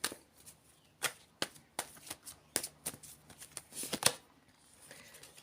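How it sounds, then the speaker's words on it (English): Tarot cards being shuffled, with a series of soft riffling flutters and sharper snaps spaced irregularly over several seconds, close and fairly quiet, with no voice. "We'll get out a card or two here."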